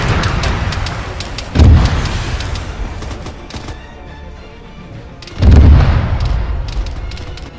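Autocannon bursts and heavy booms from a BMP in a military simulation game, with two loud close impacts standing out over a continuous rumble of distant gunfire and battle noise.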